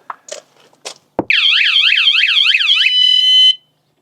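A few brief bumps and a thud, then a motorhome's security alarm wails loudly in a rapidly warbling, rising-and-falling electronic tone for about two seconds before cutting off.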